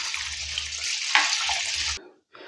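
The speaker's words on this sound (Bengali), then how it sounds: "ভালো করে 2 বার 3 বার চালটাকে কিন্তু আমি ধুয়ে নেব।" Rice being washed by hand in water, with wet swishing and sloshing close by, a few low stirring thumps, then a brief pause before the splashing starts again.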